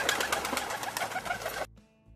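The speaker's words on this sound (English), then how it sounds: "when pigeons fly overhead, you can clearly hear the flap of their wings" Pigeons flapping their wings as they take off or fly close by, a rapid train of soft airy beats for about a second and a half, then breaking off into near silence.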